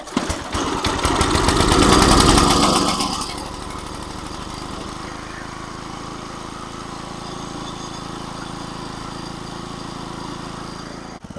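A 5hp Briggs & Stratton small engine sputters loudly for a few seconds, then settles into a steady, quieter idle that runs on alone to the end.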